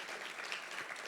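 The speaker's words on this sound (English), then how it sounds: "I just want to give you all a round of applause for the conversation" An audience at a peacebuilding event gives a short round of applause, a soft, brief burst of many hands clapping heard from a distance.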